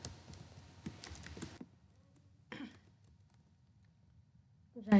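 Fast clicky typing on a computer keyboard during a programming lecture, a dense patter for about a second and a half, then a short burst after a pause, with a faint voice at the end.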